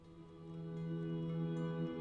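Synth pads played through a Chase Bliss Dark Star effects pedal, a soft, steady sustained chord that swells gently and hums on without breaks.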